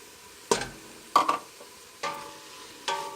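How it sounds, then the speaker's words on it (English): Tomato and fresh basil sauce for capellini pomodoro is stirred in a pan in four distinct bursts of scraping and clinking, fairly close and spaced out, with quiet between strokes. "You're going to stir that in"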